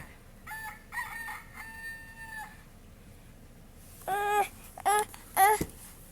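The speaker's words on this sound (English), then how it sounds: "Rooster." A rooster's cock-a-doodle-doo comes from a toy or app playing farm animal noises, a long crow of several notes at moderate volume, then a pause and three short, sharper bursts near the end.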